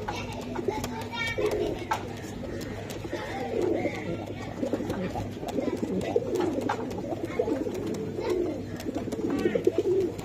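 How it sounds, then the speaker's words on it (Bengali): A green-necked pigeon of a good bloodline coos repeatedly on a pigeon farm, close and clear, while children and adults talk around it. "সবুজ গলা কবুতর এটা?"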